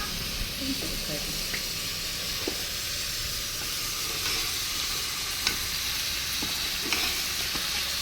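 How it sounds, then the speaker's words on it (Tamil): Mutton pieces sautéing in hot oil for mutton biryani, a steady close sizzle and hiss with occasional stirring clinks throughout, and faint talk in the background. "கறி பார்த்தீங்கன்னா நல்லா எண்ணெயிலே வதங்கணுங்க"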